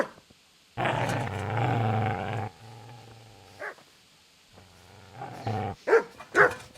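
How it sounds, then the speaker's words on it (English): A dog in the medieval game Kingdom Come: Deliverance growls long and low at a man, then barks in short sharp bursts, close and loud, with brief pauses between outbursts. "Get away, you mutt!"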